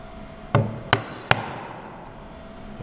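A chisel is driven along a marked line through material with three sharp, close strikes about half a second apart, followed by a quieter stretch of faint background noise.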